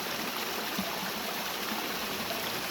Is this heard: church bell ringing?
no